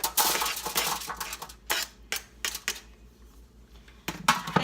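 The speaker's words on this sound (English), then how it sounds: "I take a baking pan and I align it with aluminum foil" Asparagus and mushrooms tossed into a foil-lined baking pan, giving close, bright crinkles and clattering rustles in several separate bursts.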